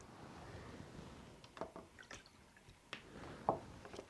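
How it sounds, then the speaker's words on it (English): Water dripping from a moist seed-starting soil tray of sown onion seeds, heard as scattered soft drips and small wet splats at an irregular pace, close and fairly quiet, with a sharper drip near the end. "it should be getting close to done dripping"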